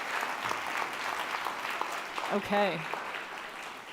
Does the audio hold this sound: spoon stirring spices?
no